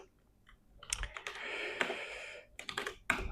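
Someone types credit card details on a computer keyboard in a quick burst of close, crisp key clicks, pausing briefly before a few final keystrokes, with no voices.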